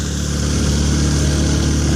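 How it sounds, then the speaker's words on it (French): A friend's vehicle engine runs steadily nearby at a festival, a loud, even mid-pitched rumble with a regular throb that never fades for the whole stretch. "on va attendre qu'il ait coupé son moteur"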